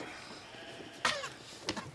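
A sheep gives a short bleat close by, followed by a second, briefer call against a soft background hum, with no talk.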